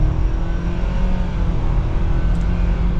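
A 2024 Nissan Sentra SV Premium economy sedan pulling away, a steady low engine drone with a faint rising tone, heard from inside at fairly high level without speech.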